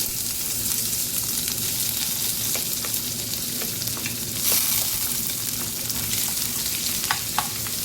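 Sliced onion fries in hot oil with bay leaf, cinnamon, cardamom and cumin, a steady close sizzle with occasional stirring clicks and scrapes and no talking.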